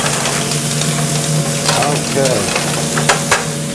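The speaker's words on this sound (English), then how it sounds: "Give this a little stir." Red snapper fillets sizzle steadily in a hot frying pan while a utensil stirs and scrapes through them, a brief spoken word passing over the continuous near frying hiss.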